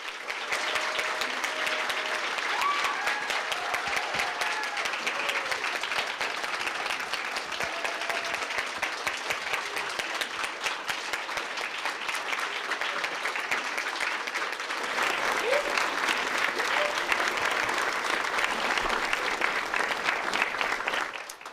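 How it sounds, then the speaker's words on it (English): Sustained applause from a crowd at a community festival ambassador coronation, an even, lively patter of many hands that carries on for about twenty seconds and swells slightly louder toward the end. "Please join me in giving a round of applause for our outgoing Eagan Funfest ambassadors one final time."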